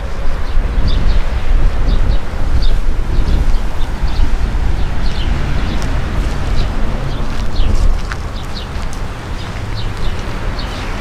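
Strong, steady wind roaring across the microphone in a garden for the whole stretch, with faint bird chirps flickering in the background.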